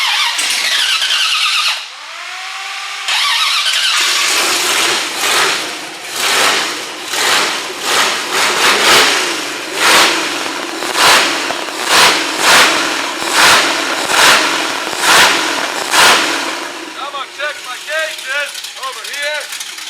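A 350 small block V8 engine in a 1934 Ford Coupe cranks and catches for the first time, then runs loud and close with rough, uneven revving and repeated throttle blips, settling into a lumpy idle.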